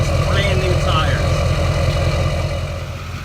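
A 2011 Chevy 3500HD service-body truck with a deleted Duramax diesel idles nearby with a steady low, throbbing rumble, while someone talks over it.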